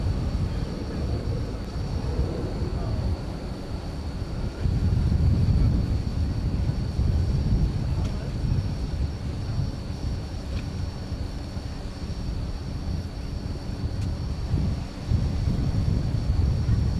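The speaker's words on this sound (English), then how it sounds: "Getting a bit of an extra breeze here right now." Wind buffets an outdoor microphone at an airport runway at night, a continuous low rumbling roar with gusty surges, loud and close, no voices.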